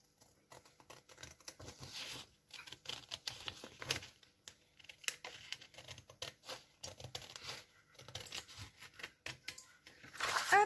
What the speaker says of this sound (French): On prend une petite paire de ciseaux.